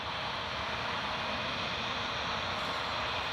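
A CRJ 1000 jet at Newcastle Airport gives off a steady, distant broadband engine roar that holds unchanged throughout, with no other sounds on top.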